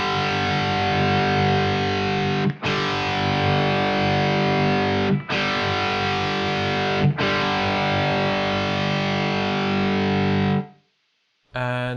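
Heavily distorted electric guitar played through a Neural DSP Quad Cortex into a Zilla Fatboy 2x12 cabinet simulation, sustained chugging chords with brief breaks near 2.6, 5.2 and 7 seconds, ending in a short silence then a faint ringing tail.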